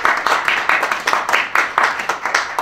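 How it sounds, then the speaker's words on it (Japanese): A small lobby-concert audience claps after a piano and percussion performance, with sharp, distinct hand claps falling in a fairly regular, almost rhythmic pattern, close and clear with no voices over them. "今一度大きな拍手を送っていただきます"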